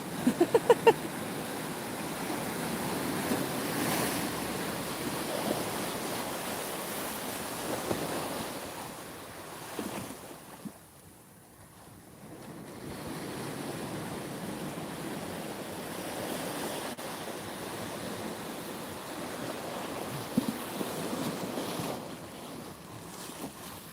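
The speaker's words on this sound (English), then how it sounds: "watching the tide come in and enjoying the sunshine" Steady waves wash and roll ashore by a promenade as the tide comes in on a sunny day, beneath gusty wind buffeting the microphone, with a brief lull midway before the surf noise returns.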